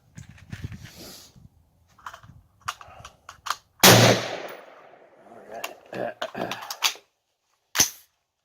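An AR15 rifle fires 50gr V-Max bullets at a shooting range, sharp loud cracks spaced irregularly with one dominant close shot, and a few quieter impacts and handling noises between them.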